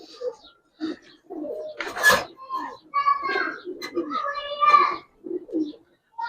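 Giribaz coloring highflyer pigeons, slim-bodied Pakistani flying birds, coo in a series of soft, close, throaty calls with short pauses between bursts.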